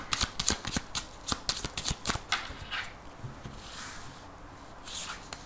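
Playing cards are shuffled close up for a card reading, making a quick series of sharp riffling snaps and slaps over about two seconds, then a softer sliding rustle as the deck settles, with no voices.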